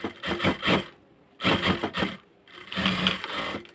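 A sewing machine stitches the side seam of a skirt in three close, loud bursts of rapid whirring, separated by brief pauses.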